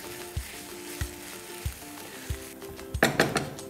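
Pav bhaji vegetables with tomato puree cook in a pan, a soft continuous sizzle broken by dull spoon knocks about every half second and a brief burst of clattering near the end.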